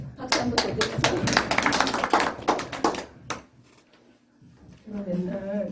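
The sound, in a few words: audience clapping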